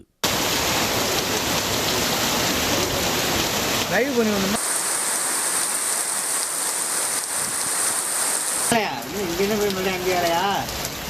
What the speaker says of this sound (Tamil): அறந்தாங்கி மற்றும் சுற்றுவட்டார பகுதியில் இடியுடன் கூடிய கனமழை பெய்தது